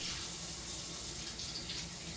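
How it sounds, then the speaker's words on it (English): A fire-roasted pepper gets a quick rinse under a cold kitchen tap, the steady gush of running water close and continuous before cutting off abruptly at the end. "Finally, a quick rinse under cold water."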